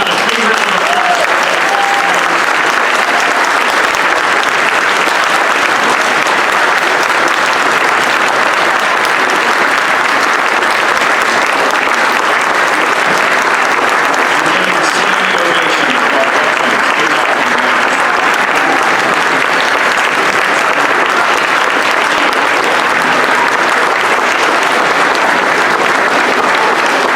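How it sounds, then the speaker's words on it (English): Sustained audience applause fills a Veterans Day ceremony at Hillendale, a dense, steady clapping from a crowd that holds at full strength for the whole stretch, close and loud. "How about a big round of applause?"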